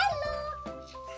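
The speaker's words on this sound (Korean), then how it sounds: "짖지 마" A dog lets out a brief, high, strained yelp-like bark indoors, close but fairly soft, followed by a short whimpering tail.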